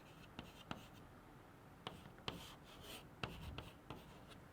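Pen strokes by hand on paper while writing out a 3d6 electron configuration in orbital boxes for a coordination compound, with a handful of short faint scratches and taps spread over a few seconds in a quiet room.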